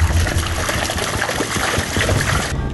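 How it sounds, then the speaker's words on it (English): Carp splash in water during a bowfishing outing, a close, busy churning and sloshing with continuous watery trickles and no voices. "the fish splashing."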